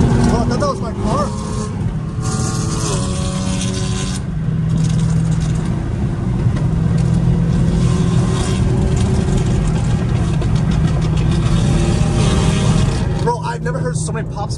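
Hellcat Redeye and McLaren cars cruise together, engines droning loudly and continuously with crackling exhaust pops layered over the steady roar, close by throughout.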